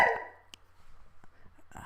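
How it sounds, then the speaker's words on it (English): A pet dog indoors gives a short, sharp bark at the start, then a couple of faint yelps or whimpers over a quiet room, all within a couple of seconds. "that's my dog, hold on."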